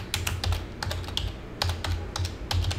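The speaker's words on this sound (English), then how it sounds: "Now we're going to type in notepad" Rapid typing on a computer keyboard while entering text in Notepad, with quick, uneven bursts of clicking keys, close and steady, alone without talk.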